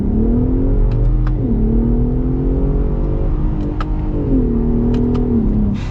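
A 2021 pickup truck with a Baja exhaust accelerating hard in sport mode, engine roar rising through the gears with audible shifts, loud and close, with no talk.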